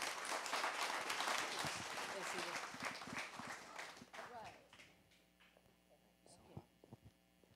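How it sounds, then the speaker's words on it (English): Crowd applause at a live-streamed startup event, steady dense clapping for about four seconds that then fades out, with room hum and a few scattered claps left afterward. "Let's give her a round of applause."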